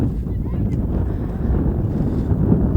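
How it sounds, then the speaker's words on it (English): Strong wind buffets the microphone at an outdoor T20 cricket match, a steady low rumble of gusts that swells slightly in the second half, with no clear speech. "It's very windy."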